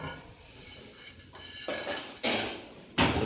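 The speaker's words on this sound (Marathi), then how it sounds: "आता वरती झाकणं मारला" A metal lid is set down on a cooking pot of crab curry, giving a few sharp clanks and knocks that grow louder toward the end, with no talking.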